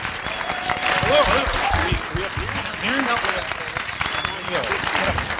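An audience in San Francisco applauds steadily throughout a film Q&A, a dense wash of clapping with a few voices mixed in.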